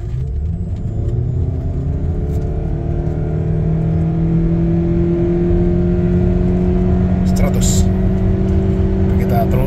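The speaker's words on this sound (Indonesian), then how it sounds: "kita mau ngetes kecepatan akselerasinya ya" Toyota Camry Hybrid accelerating hard from a standstill to 100 km/h on a straight road, heard from inside the cabin as a steady loud drone with rising engine and motor whine throughout, with no talk over it.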